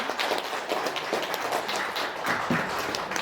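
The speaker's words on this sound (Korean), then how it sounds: "큰 박수로 축하해 주시기 바랍니다." An audience at a Korean forest literature award ceremony claps to congratulate a prize-winning poet. The applause is moderate and slightly uneven, with scattered individual claps across a few seconds and no talking over it.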